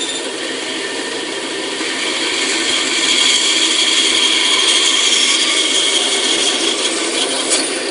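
A band saw cuts the wings of a guitar bridge with a steady, loud, rasping whine that grows slightly stronger as the cut goes on. It runs alone, with no talk.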